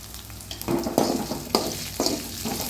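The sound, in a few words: sliced green chilies added to the pan and frying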